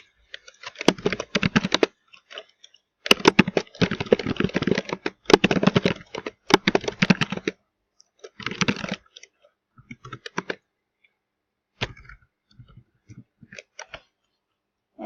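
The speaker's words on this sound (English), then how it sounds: "if we go ahead and type in this information" Someone types information into registration form fields on a computer keyboard, producing quick bursts of close key clatter broken by pauses of silence.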